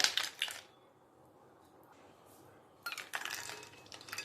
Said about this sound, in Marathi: आईस क्यूब मिक्स करून घेते